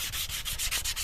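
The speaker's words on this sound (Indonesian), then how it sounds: "di sini saya amplas dengan amplas halus seperti ini" A rusty knife blade is rubbed with fine sandpaper in quick, even back-and-forth strokes, a close, steady scratchy hiss with a regular rhythm and no voices.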